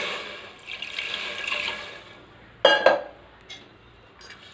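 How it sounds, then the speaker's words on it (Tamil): Water is poured over mutton in a pot as a biryani is prepared, a splashing pour for about two seconds, then a few sharp metallic clinks and knocks from the pot, with no talking. "நம்ம இந்த மட்டன் மூழ்கிற அளவுக்கு தண்ணி ஊற்றிக்கலாம்."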